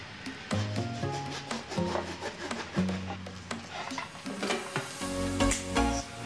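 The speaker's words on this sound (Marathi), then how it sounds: "कापून घ्यायचं फणस" A knife works through a jackfruit with irregular close-up scraping, rubbing and chopping strokes, some sharper taps among steady grinding contact.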